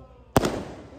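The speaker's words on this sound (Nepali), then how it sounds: "लो अब हुन्छ पड्का" Firecrackers bursting at a wedding ceremony: a sharp, loud crack followed by a decaying rumble, then a second crack right at the end, set against a quiet background.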